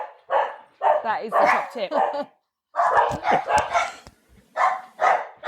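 A dog barks repeatedly in short, loud bursts, mixed with yips, while people talk over and between the barks.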